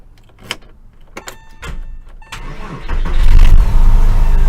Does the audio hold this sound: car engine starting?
yes